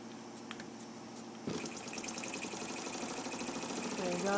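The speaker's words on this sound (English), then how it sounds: "There we go, grinder's now running." A 1970 Mamod grinder belt-driven by a Mamod SE2 toy steam engine starts running, a soft whirring mechanical hum that rises in level after an abrupt start and continues steadily, close and low in volume.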